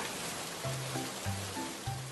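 Steady rain falls in an animated scene, a continuous soft hiss of drops with faint low tones underneath and no talking.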